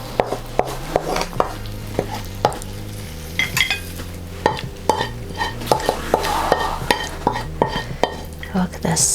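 Kung Pao prawns with roasted peanuts and chilies being served from the pan onto a dish, with repeated close metallic clinks and scrapes of utensil on pan and plate, short bursts at an uneven rhythm.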